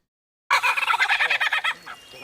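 Lyrebird mimicking a kookaburra call, a loud near burst of rapid, rhythmic cackling chatter that starts abruptly after a short silence and trails off.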